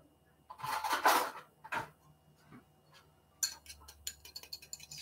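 An egg being stirred for egg wash in a bowl, a run of clinking, scraping utensil-on-bowl taps in bursts with pauses between, close and fairly quiet, no talking.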